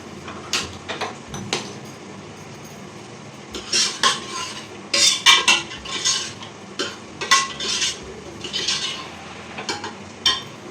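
Utensils and dishes being scrubbed and washed, with repeated clinks and clatters of metal pots, plates and cutlery in irregular bursts, close by, with no talking.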